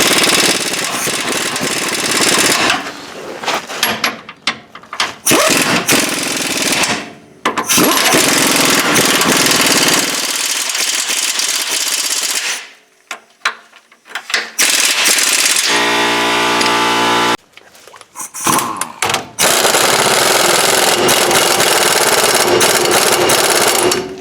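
An impact wrench tightens a bolt on the front lower control arm of a Chevy Trailblazer, loud rattling bursts broken by short pauses, with a lower hum near the end.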